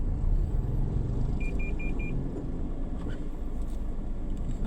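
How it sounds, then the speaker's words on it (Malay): Slow road traffic near a school on the first day of term: a steady low rumble of car engines with a short run of four quick beeps. "Biasalah hari pertama kesekolahan ni keadaan jam sikit."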